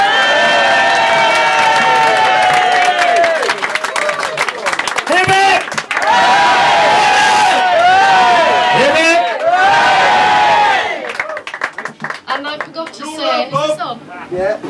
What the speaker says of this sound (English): can we just have, for Bob and Terri, a massive cheer?